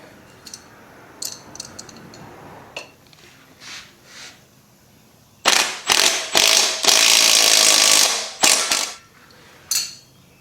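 Bolts on a 1994 Honda club-style motorcycle tightened with a wrench: sparse ratcheting clicks early on, then several loud, close bursts of buzzing mechanical rattle, one held for about two seconds, and a final short burst.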